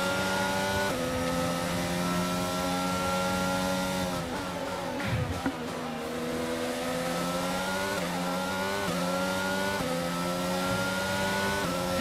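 Formula 1 race car in an F1 game at Bahrain, a McLaren engine whining steadily, dipping briefly mid-clip before climbing again in pitch as it accelerates out of a corner; loud, continuous and close, with no talk.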